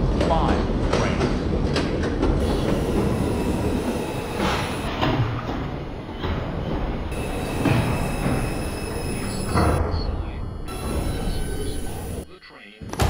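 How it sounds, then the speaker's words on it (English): A New York subway 4 local train rides between stops in the Bronx toward Burnside Avenue. It makes a loud, continuous rumble with rattling clatter and high wheel squeal throughout, then a brief dip near the end. "This is a Burnside Avenue bound 4 local train."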